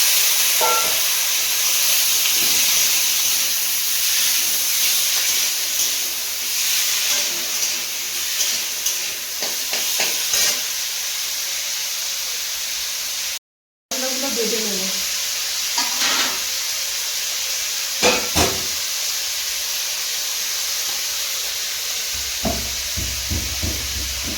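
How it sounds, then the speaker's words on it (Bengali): Potatoes fry in hot oil while a river magur fish curry is being cooked, a steady, close sizzling hiss with scattered stirring clicks and a momentary dropout midway. "এই তেলের মধ্যে আলুটা ভেজে দেবো"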